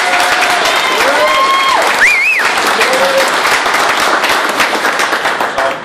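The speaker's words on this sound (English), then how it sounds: "Round of applause for Kelly here." Sustained audience applause at an indoor tour card drawing event, dense steady clapping fading slightly at the end, with whistles and a few voices over it.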